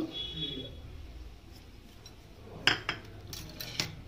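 Rice flour and gram flour batter for greens fritters being beaten in a bowl, quiet at first and then a few sharp clinks and knocks of a spoon against the bowl, close by.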